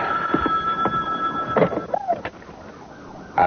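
A telephone rings in a home, a loud electronic warbling ring with steady tonal bursts, close by and mostly alone, with faint background movement.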